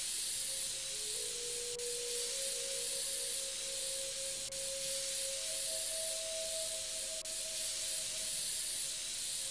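A PC case gets blown out in PC Building Simulator with a continuous close hiss of spray that holds steady and fairly soft throughout, under a faint tonal hum, with no talking.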